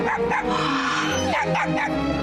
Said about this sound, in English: Oh my god, he's gonna kill the dog!